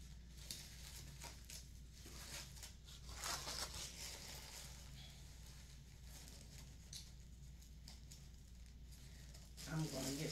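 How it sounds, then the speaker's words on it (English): Plastic wrapping being peeled off a Coach bag chain, with soft, intermittent crinkling and rustling up close. "I'm going to unwrap this because I want to see this chain"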